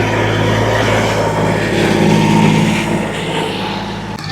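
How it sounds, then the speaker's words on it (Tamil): Tractors work on site in Mullaitivu, and their engines make a loud, continuous droning rumble that holds steady throughout, ending in a sharp click. "இங்கேயும் பாருங்கள் இவ்வளோ டிராக்டர்கள் இந்த வேலை நடந்து கொண்டிருக்கணும்."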